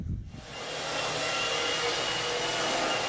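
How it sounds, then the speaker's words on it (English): A vacuum cleaner runs over commercial carpet during pre-vacuuming, starting with a short bump and then settling into a steady, fairly loud whirring drone with no talk. "You gotta pre-vacuum so you can get all the soils and debris up."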